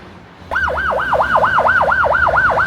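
An ambulance siren starts abruptly and wails loud and close in a fast, regular rising-and-falling cycle that continues without a break.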